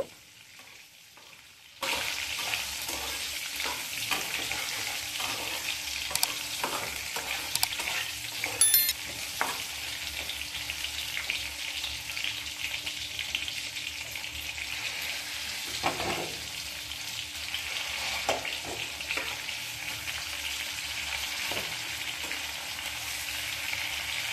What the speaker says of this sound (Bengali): এই তেলের মধ্যে টমেটোটা ভালো করে কষিয়ে নেব